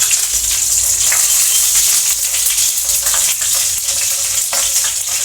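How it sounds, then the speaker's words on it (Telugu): Garam masala spluttering in two spoons of hot oil in a bowl for chicken curry, a loud, steady, close crackling sizzle with scattered sharper pops, no voices. "ఇందులో 2 స్పూన్లు నూనె వేసుకోవాలి. గరం అయిన తర్వాత గరం మసాలా వేసుకోవాలి."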